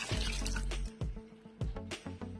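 Hot water is poured into a pot of ojri (tripe) while cooking, a close, quiet splashing pour with a few short gurgling bursts over a couple of seconds.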